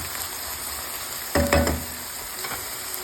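Onions fry and are stirred in a pan for stuffed peppers, a steady close sizzle with a short louder burst of scraping and stirring midway.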